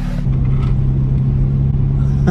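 Honda VTEC car engine running and warming up, a loud steady low rumble with a constant hum that holds evenly throughout, close by with no talking.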